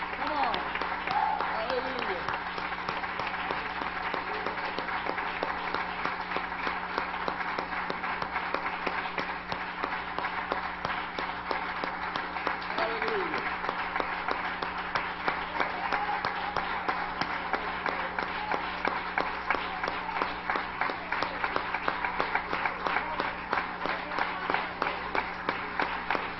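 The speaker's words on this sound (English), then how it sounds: "We ought to give the Lord a hand clap for our freedom that we have today." A church congregation at a Pentecostal service claps hands in praise, a dense, steady round of applause that fills the room at even loudness and holds for nearly half a minute without letting up.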